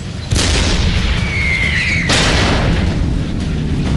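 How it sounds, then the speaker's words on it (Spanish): A tank cannon fires an explosive shell with a heavy boom, followed by a second blast and a lingering rumble, loud and close, with a brief high whine between the two reports. "Giré la torreta como pude y disparé un proyectil explosivo."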